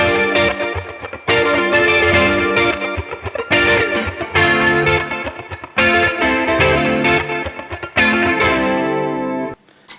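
Electric guitar played through a NUX Trident processor on a Twin Reverb amp preset, ringing chords with chorus and effects shimmer, strummed in bursts with brief gaps, loud and close, alone with no talk.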